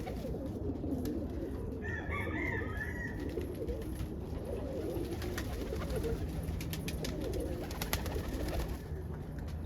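Roller pigeons coo softly in a loft, layered low burbling calls from several birds close by, with faint higher chirps and background clatter.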